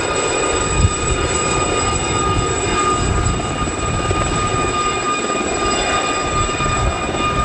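A helicopter climbs during an air display at Yeovilton, its rotor giving a constant loud, close chopping drone with a steady whine on top, uninterrupted throughout.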